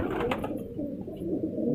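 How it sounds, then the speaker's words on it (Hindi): Fighting pigeons coo softly in a breeding setup, a low, muffled, continuous warble with a faint brighter note near the start, no voices. "ये लड़ने वाले कबूतर हैं जिनकी वीडियो बना रहे हैं ना"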